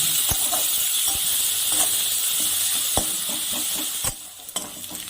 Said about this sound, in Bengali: তাতে কুচুনো পেঁয়াজটা দিয়ে দিলাম। পেঁয়াজটাকে আমি একটু লাল করে ভেজে নেব।